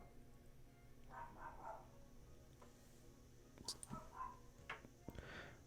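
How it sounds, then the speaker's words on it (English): A neighbor's dog yaps a few times in the distance, faint short barks scattered over a steady background hum. "I don't know if you can hear the neighbor's dog"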